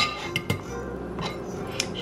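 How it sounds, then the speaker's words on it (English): A metal spoon clinks a few times against a bowl while chili peppers are stirred into a Vietnamese dipping sauce, giving sharp, light taps close by with quiet gaps between them. "Taking the spoon out."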